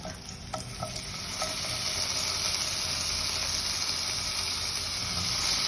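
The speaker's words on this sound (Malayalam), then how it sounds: "ചെറു ചെറു തീയിൽ മെല്ലെ തിരിച്ചു മറിച്ചു വിട്ടിട്ട് റോസ്റ്റ് ചെയ്താൽ മതി" Steady frying sizzle and hiss as bitter gourd dry-roasts in a pan over low heat, with a few light scraping stirs early on; no voices.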